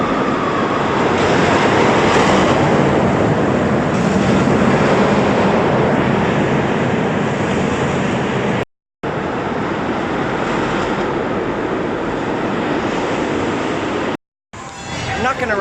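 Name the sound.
space shot amusement ride running in mall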